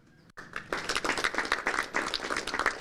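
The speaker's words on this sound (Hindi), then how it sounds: "अपने आप का स्वागत तालियों के साथ करें" Farmers at a village chaupal discussion on the Kisan Credit Card scheme clap to open the program, a sudden start of fairly close, uneven group clapping with distinct individual claps that continues steadily.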